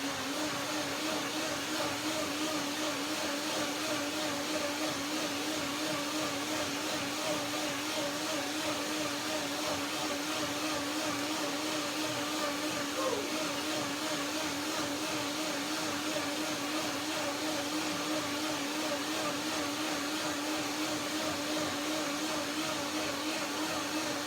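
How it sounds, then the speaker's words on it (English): A kitchen blender runs steadily while mixing a fruit cream of hazelnut, persimmon and tangerine, giving a constant whirring motor hum at moderate, somewhat distant level for the whole stretch, with no talk. "So now I do the second blending."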